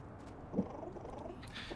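A cat purrs softly and steadily in the video game Little Kitty, Big City, a low rumbling hum that rises briefly partway through, with no talking.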